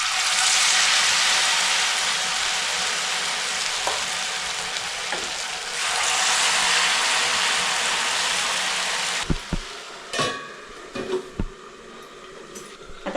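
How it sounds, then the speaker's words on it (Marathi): Spoonfuls of batter sizzling in half-depth oil in a pan, a loud steady frying hiss that drops in level, followed by a few sharp clinks and taps near the end. "हे कसे आपल्याला अर्धे शॅलो फ्राय करायचे, अर्धे डीप फ्राय करायचं आहे."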